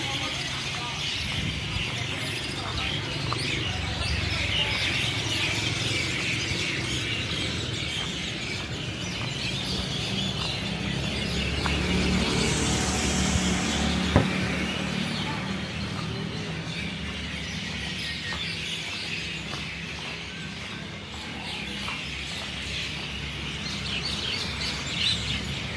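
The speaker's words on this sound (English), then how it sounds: "What's up with all these birds?" Many birds chirping and twittering continuously over a city street in Ranong, Thailand, at night, mixed with traffic hum and crowd murmur, with people talking nearby.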